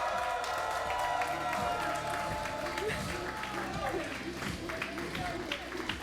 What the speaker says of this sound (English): Applause please. For Kasane.